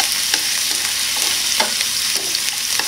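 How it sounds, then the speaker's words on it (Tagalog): Chopped onion and garlic sauté in a hot pan for kalabasa soup, a steady bright sizzle with scraping stirs of a utensil against the pan coming in short strokes, close and fairly loud, with no voices. "Naglagay na tayo ng ating sibuyas. Tapos, sinunod na natin yung ating bawang."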